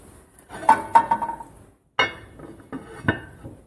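Clattering of a metal lid and pot as a pot of Persian eggplant and lentil soup is covered, several close clinks and knocks, a short pause, then a few more sharp taps as the lid settles.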